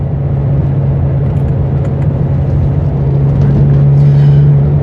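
Ferrari 355 engine droning steadily from inside the cabin while driving, a strong low hum with a sustained tone that rises slightly toward the end.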